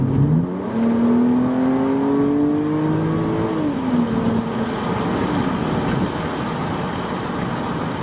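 A BMW E90 with an exhaust cutout revs up with a rising throaty roar, holds, then eases back down. Loud and close, with a raspy exhaust tone.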